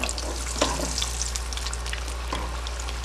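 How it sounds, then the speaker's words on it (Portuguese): Pastel pastries frying in hot oil and being stirred give a steady, dense sizzle with a couple of louder bubbling bursts and faint utensil movement, close up with no talking. "Deixa fritar sem mexer. Agora vou dar uma mexida para virar do outro lado."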